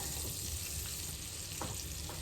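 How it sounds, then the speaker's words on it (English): Steady, close sizzling and crackling of birria taco food frying in a hot pan, with a few soft stirring scrapes, no talking. "So I'm just gonna put this in the frying pan."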